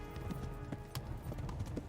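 Horse hooves clip-clop in a steady galloping rhythm in Kingdom Come: Deliverance, a medieval game, loud and close with a faint background bed throughout.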